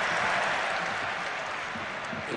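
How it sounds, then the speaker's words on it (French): A football stadium crowd applauds its favourite team at La Beaujoire, a steady wash of clapping from many people, fairly distant and even throughout. "connaisseur qui applaudit ses favoris"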